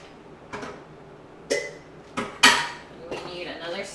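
A spoon scrapes and clinks against a pot on the stove in a few sharp, separate strokes while a sugary mixture is stirred, close and distinct with quiet pauses between knocks.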